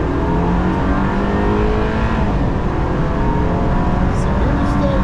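A race car on the Nurburgring holds full throttle, its engine a loud, steady, close roar climbing in pitch as it accelerates hard.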